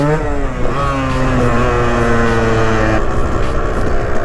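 A KTM 125 EXC dirt bike engine revs loudly and close by. Its pitch climbs and then holds at a steady high whine for a few seconds, with no talking over it.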